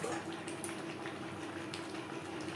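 Pabda fish curry with vegetables simmering in its gravy, a steady soft bubbling with faint crackle throughout, close and quiet with no voices.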